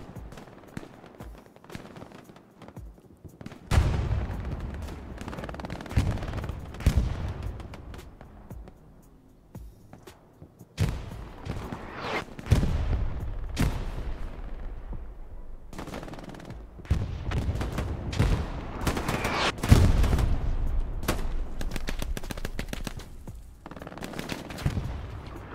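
Artillery shelling and gunfire in the Hell Let Loose video game during a competitive grand final match, with dense crackling rifle and machine-gun fire and heavier explosive booms continuing throughout, loud and busy.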